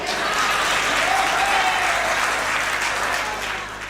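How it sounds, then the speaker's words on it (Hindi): Steady, full audience clapping at a Hindi comedy poetry show, a dense even wash of applause held throughout with a slight tapering at the end, a few voices faintly mixed in. "इस बात पे ताली निर्मल सक्सेना जी की वाइफ ने बजाई है।"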